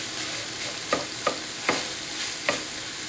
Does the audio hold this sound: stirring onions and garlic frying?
yes